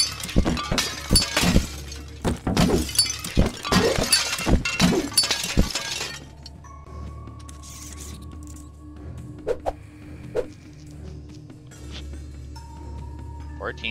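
Dishes shatter in rapid, loud succession in the video game Kill It With Fire, a cluster of crashing breaks over several seconds followed by quieter scattered clinks, with a person talking over parts of it.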